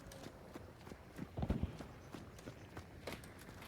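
Footsteps in the video game Hunt: Showdown, set in a bayou, sound as a faint, steady series of soft thuds that swell briefly in the middle under quiet game ambience.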